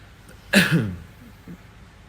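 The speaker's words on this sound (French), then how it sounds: "Pourquoi tu m'as toussé dans la gueule?" A single sharp, throaty cough bursts out at close range, followed by a faint murmur and a small second noise.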